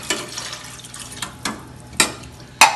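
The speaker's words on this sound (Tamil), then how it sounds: "அதனால் 2 டம்ளர் தண்ணீரை ஊற்றிடணும்" Water poured into a cooking pot of banana stem and green gram for kootu, a steady splashing wash with a few sharper clinks and splashes standing out, close and fairly quiet, with no voices.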